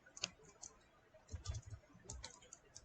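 Soft clicks of typing on a computer keyboard, a few scattered keystrokes with low thumps, quiet and close.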